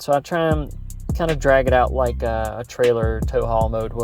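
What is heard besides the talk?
No everyday noise stands out behind the speech.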